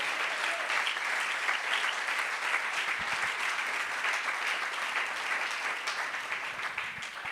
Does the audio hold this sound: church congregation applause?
yes